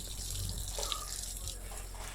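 Water splashes steadily onto potted garden plants, a continuous close pour with no talking.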